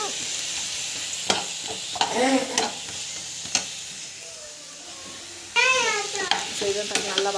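Raw banana being sautéed and stirred with ginger-garlic paste in a pan, a steady sizzle with repeated scraping stir strokes, a brief lull midway, then louder frying and stirring toward the end.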